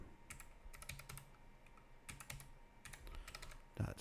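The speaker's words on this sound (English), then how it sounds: "Helps if I type it right." Keys clatter on a computer keyboard in quick bursts while an IP address is entered during setup of a Kaspa mining node, with short pauses between runs of keystrokes and a louder clack near the end.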